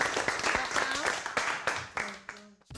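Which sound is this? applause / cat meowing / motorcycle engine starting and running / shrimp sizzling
applause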